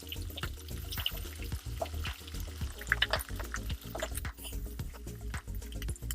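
Freshly ground spice paste dropped into hot oil already crackling with mustard seeds and cumin in a pan, giving a busy sizzle with wet squishing and dripping sounds, steady and close throughout.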